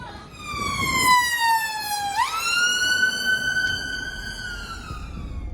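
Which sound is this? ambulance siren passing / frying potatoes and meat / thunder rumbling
ambulance siren passing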